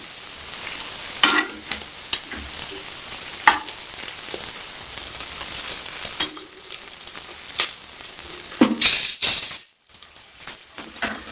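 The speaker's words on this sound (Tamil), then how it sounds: "கூட கொஞ்சம் கறிவேப்பிலை தலையும் போட்டு நல்லா கிளறி விடணும்" Onions and curry leaves fry loudly in a pan for chicken biryani while being stirred, a dense continuous sizzle broken by repeated spatula scrapes and knocks, then a brief dip near the end.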